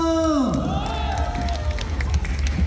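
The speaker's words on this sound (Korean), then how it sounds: "즐거우신 분들 박수와 함성." In an indoor gymnasium at a Korean farmers' association sports day in Hapcheon, a crowd cheers and claps with a rising whoop, a lively babble of voices and applause, following a host speaking.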